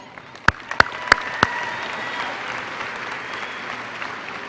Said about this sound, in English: Help me give them a round of applause for everything that you all accomplished